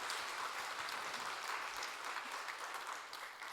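A church congregation applauding in praise during a service marking the church's 77th anniversary, a dense steady wash of many hands clapping that fades slightly toward the end, with no voices over it.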